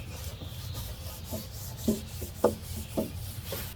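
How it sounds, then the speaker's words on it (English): A tack cloth wiped over an old wooden bench, giving soft close rubbing strokes in a loose rhythm, a few firmer swipes standing out, with no talking. "We'll go ahead and just give it a quick tack down just to try and get any extras off here"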